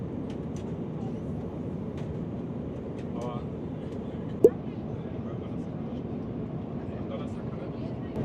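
Cabin of a small, full passenger airliner during descent, a steady low rumbling roar of engines and airflow with faint clicks and a brief sharp knock midway.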